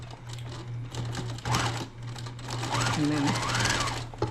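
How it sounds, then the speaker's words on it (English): A sewing machine stitches forward and back-stitches on a double-folded Halloween fabric placemat, its steady motor hum running close and constant beneath a woman's speech. "Take a few stitches and back stitch."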